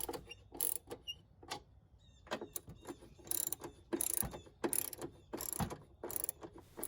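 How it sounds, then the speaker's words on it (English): A ratchet tightens the battery hold-down nuts on a fifth-generation Toyota 4Runner, giving close, crisp bursts of rapid clicking in uneven strokes with short pauses between them. "hand tighten down the nuts before you tighten them down with a ratchet"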